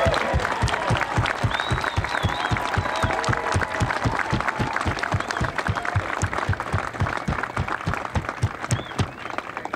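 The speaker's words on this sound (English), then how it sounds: "Ladies and gentlemen, a round of applause for Lenny Roberts," An outdoor crowd applauding at the opening ceremony of the Devil's Slide Tom Lantos Tunnels, dense sustained clapping with a few cheers and whistles, loud and continuous throughout.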